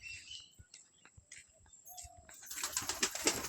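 Pigeons in a backyard coop on a foggy morning, with scattered soft calls and fluttering early on, then a louder burst of wingbeats and rustling near the end.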